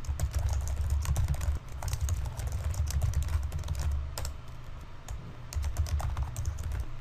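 Steady typing on a computer keyboard while entering lecture text into the Moodle software platform, with continuous close key clatter and a brief pause partway through, alone with no talk.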